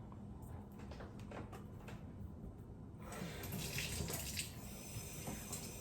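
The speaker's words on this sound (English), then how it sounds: "I'm going to ask my assistant to rinse off the top for me." Water running from a kitchen tap rinsing the top of a soup can, a steady close splash that grows louder and brighter partway through.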